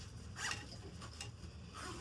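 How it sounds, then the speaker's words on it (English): A zipper being pulled closed around an inflatable life jacket, a close, quiet series of short ratcheting zips in uneven bursts, with no talking. "Make sure I'm not catching anything in the zipper as I come around."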